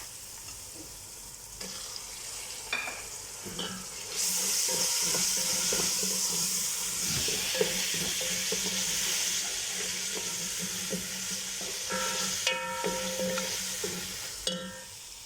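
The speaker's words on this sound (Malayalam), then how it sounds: "ഇത് സവാളയും എല്ലാം കൂടെ വഴറ്റിയതാണ്" Onion with ginger-garlic paste and garam masala spices sizzles steadily in a hot pan for an Arabic dish. A spoon scrapes and stirs in repeated bursts, and the frying hiss grows louder partway through.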